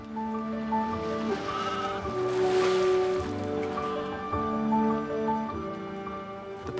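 Sheep bleat repeatedly on grazing land on a coastal island off Skye. The calls are steady, fairly close and overlap one another, with a faint wash of sea behind them.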